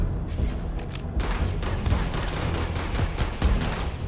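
Sustained gunfire fills a modded Starfield firefight, a dense run of shots and thumps crackling over continuous combat noise for several seconds, with no voices.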